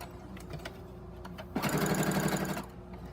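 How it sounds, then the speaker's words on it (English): A sewing machine stitches a drawstring bag in one steady burst of about a second, running alone after a quiet stretch of light handling noise. "And then sew down and around this one."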